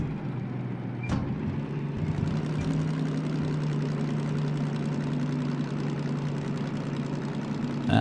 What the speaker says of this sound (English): So slowing down, revs dropping, temperature increasing.